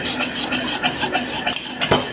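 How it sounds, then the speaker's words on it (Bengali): Custard powder is stirred steadily into milk for falooda, a spoon scraping and clinking against the pan in quick, continuous, close-up strokes with no talk. "কাস্টার্ড পাউডার দেওয়ার সাথে সাথে অনবরত নেড়ে নিতে হবে"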